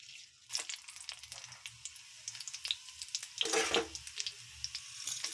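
Cumin seeds and dried red chillies crackle and sizzle in hot oil for a gongura curry, a soft hiss with a louder sputtering burst midway and faint scraping, close and without talk.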